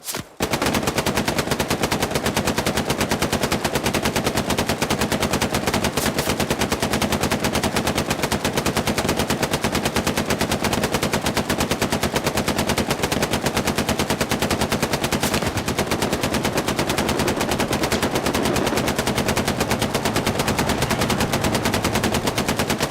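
Relentless automatic gunfire rattles nonstop in the World War II shooter game Hell Let Loose, dense and loud bursts of rapid shots filling the whole stretch with no voices.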